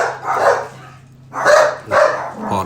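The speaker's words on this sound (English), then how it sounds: "Now he barks at squirrels." A guard dog barks loudly and close by, three sharp barks in two bursts with a short pause between them.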